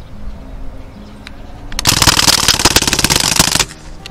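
A Crosman DPMS Panther SBR CO2 airgun fires a rapid full-auto burst of sharp, closely spaced cracks lasting about two seconds, loud and close, preceded by quiet handling.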